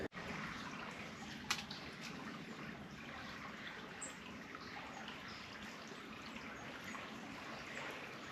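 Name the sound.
river water flowing in a video game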